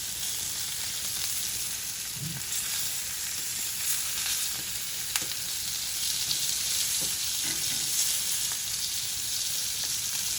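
Lamb chops sizzle and fry steadily in a hot pan, a constant crackling hiss with occasional sharper pops and a brief clink as pieces are moved, no talking.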